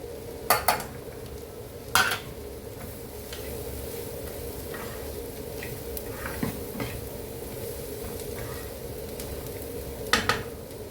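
Mushroom spicy masala curry stirred in a pan: a quiet background sizzle with a few sharp utensil knocks against the pan, spaced apart.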